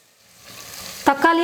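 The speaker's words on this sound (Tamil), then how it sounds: "வெங்காயம் ஓரளவுக்கு நல்லா வதங்கினதுக்கப்புறமா தக்காளி சேர்த்துக்க போகிறேன்." Chopped tomatoes go into a pan of sautéed onions for a yam curry: a sudden loud sizzle bursts up over a quiet frying hiss, then settles into steady close frying.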